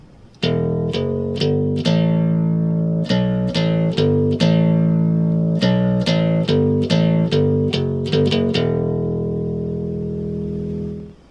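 A plucked bass guitar plays a quick melodic riff of repeated notes with a sharp attack, ending on a long sustained note, close and loud.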